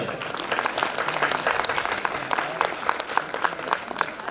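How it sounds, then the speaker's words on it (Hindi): A seated audience claps steadily, with distinct sharp hand claps standing out from the dense patter, and a voice speaks briefly over it. "तालियां दिन भर बजानी है, अपने लिए भी और औरों के लिए भी"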